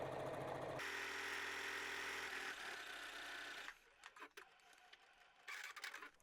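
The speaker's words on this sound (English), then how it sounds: "I'm going to go ahead and sew, and then I'll back stitch" A domestic sewing machine stitches a seam on a wrap pinafore, first a loud steady mechanical whir and hum, then short stop-start bursts of stitching toward the end, close up with no talking.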